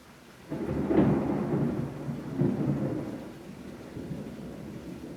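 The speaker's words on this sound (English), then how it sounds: "Yeah, I love the storms here." Deep rolling thunder rumbles twice in slow swells over a steady hiss of falling rain, fairly close, with no talking.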